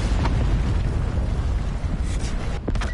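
A Hellstorm missile strike in a military shooter video game lands as a deep rolling explosive roar, loud and sustained, with a few sharp pops and crackles near the end.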